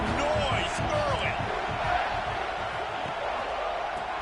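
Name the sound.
stadium crowd noise at a football game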